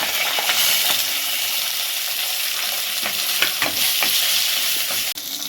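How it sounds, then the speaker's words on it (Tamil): Sliced shallots sizzle loudly in hot oil, a steady bright crackle with occasional clinks and scrapes of stirring close by. "இப்போ இந்த நறுக்குன்னு சின்ன வெங்காயத்தை சேர்த்துக்கிறேன்"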